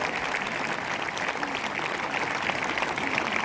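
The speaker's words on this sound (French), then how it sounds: "On peut l'applaudir très très fort." Audience at a Basque strongman show in the Sare fronton keeps up steady, dense applause for the full stretch, a continuous wash of clapping at moderate level.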